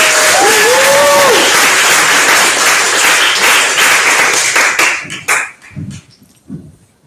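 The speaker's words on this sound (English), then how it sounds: "Round of applause for Winnie" Audience applause breaks out at a literary anthology launch event, a dense, loud wash of clapping with some cheering voices, then thinning into scattered claps and fading out over the last couple of seconds.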